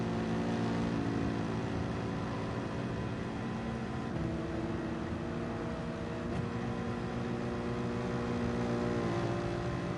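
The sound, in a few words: V8 bi-turbo race car engine in video game Gran Turismo 7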